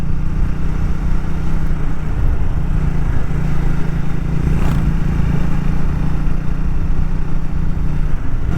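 A motorcycle rides a mountain road between Tanakpur and Dharchula, giving a loud, steady engine drone mixed with constant wind rush and no letup.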